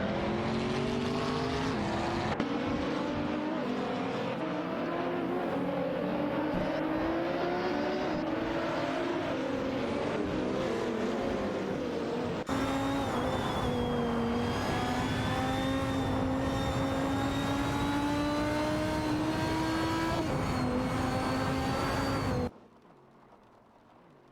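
Lamborghini Huracan GT3 and Jaguar F-Type GT3 race cars in a racing video game, a loud continuous engine drone with shifting rising pitches as cars pass and change gear, cutting off abruptly near the end.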